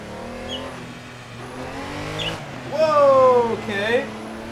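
A Porsche 911 Carrera RSR 3.0 in Assetto Corsa at the Nürburgring, engine idling low, then revving sharply twice in rising and falling sweeps, loud and close, with someone talking over it.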